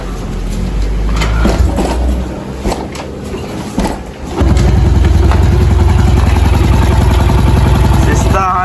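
Honda Pop 110i motorcycle engine with a strange knocking fault is started and left idling close up, a steady clattering thump under the running engine, with a person talking over it.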